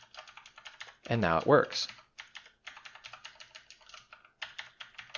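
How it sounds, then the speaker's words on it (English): Quick, light keystrokes on a computer keyboard patter in irregular bursts through most of the stretch, with a short spoken phrase breaking in near the start. "we're going to just play around with the keyboard here"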